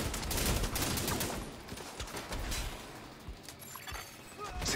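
A turret firing in Tom Clancy's The Division 2 gives dense, continuous crackling gunfire with scattered sharp impacts. It is loudest at the start, eases slightly and keeps going throughout the mix.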